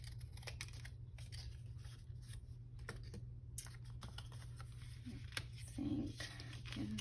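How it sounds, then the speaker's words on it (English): Scissors cut a small paper tag off a junk journal page, quiet close snips and paper rustles over a faint steady hum, with a few soft taps. "cut off this little tag here"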